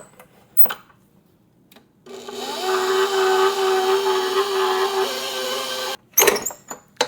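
A stand mixer with a dough hook kneads dough while the last flour is worked in, a steady mechanical whir that starts abruptly, runs about four seconds and cuts off, with a few clunks before and after.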